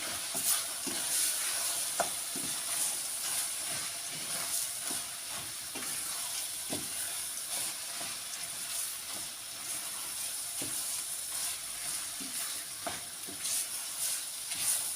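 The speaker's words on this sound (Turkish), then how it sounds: "Baharatlarını da koyuyorum. Bakın bu şekilde hepsini koyuyorum. karıştırıyorum." Spiced filling for oven-baked stuffed peppers being stirred in a pan, soft repeated scraping strokes under a constant sizzle and hiss, close and moderately loud, with no voices.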